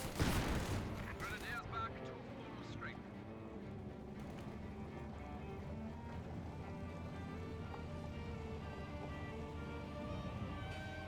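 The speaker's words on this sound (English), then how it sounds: "looks like the MP40 squad finds the conscripts. Goes off frag." Gunfire and a frag grenade in a Company of Heroes 2 battle between an MP40 squad and conscripts: a loud burst up front, then a steady layered din of distant rifle and machine-gun fire with scattered sharp shots throughout.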